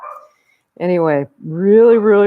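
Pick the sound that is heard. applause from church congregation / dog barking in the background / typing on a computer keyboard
dog barking in the background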